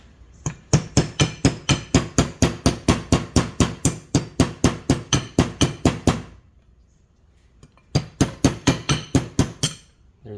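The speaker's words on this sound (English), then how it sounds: "you can take this off simply by smacking it down" A part of a Predator 212cc engine is smacked down during a rebuild, giving a rapid, even series of loud sharp metallic blows, about three per second, then a pause and a second burst of hits.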